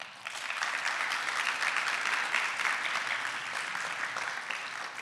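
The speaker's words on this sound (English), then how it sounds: "Let's share and show our love by a round of applause to all the organizers of today." An audience at the WordCamp Lithuania 2025 conference applauds the event organizers with a steady, sustained wash of many hands clapping, heard from some distance at moderate volume.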